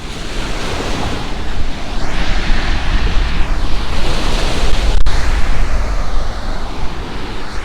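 Waves roll onto the beach at Gorleston, Norfolk, a continuous loud surf wash with gusting wind buffeting the microphone and no talk.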